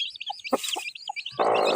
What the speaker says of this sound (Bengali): সেই মুরগির ডাক দেখুন শুনতে পাচ্ছেন